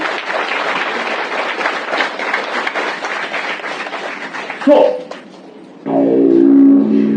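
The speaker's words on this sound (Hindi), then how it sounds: "ताली बजाओ जोरदार" An audience at a motivational success seminar claps loudly and steadily for about four and a half seconds. The applause then breaks off into a few brief knocks, and a tonal, voice-like sound closes the clip.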